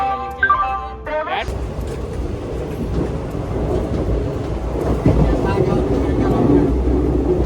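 Train arriving at a Mumbai station, a steady rumbling roll with clattering wheels that builds slightly, heard under people talking nearby.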